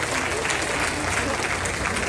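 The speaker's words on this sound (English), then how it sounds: "let's give these kids a nice hand on the job well done." A crowd applauds young showmen at a county fair pig show in Athens County, a steady, dense clapping that carries through the whole moment without a break.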